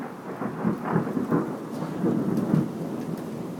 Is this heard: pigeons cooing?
no